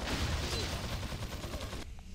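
Resident Evil 4 gunfire, a steady rapid rattle of repeated shots lasting nearly two seconds before stopping abruptly into near silence.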